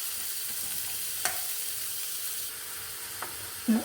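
Onions fry in salted butter for paneer butter masala, a steady soft hiss of sizzling with a couple of faint clicks of the spoon against the pan.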